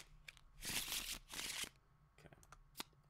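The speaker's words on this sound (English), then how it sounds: "I'm going to shuffle these up for a second." Game cards being shuffled for Traitor Race give two quick, close riffling bursts, then a few soft taps and flicks as the deck settles, with no voices.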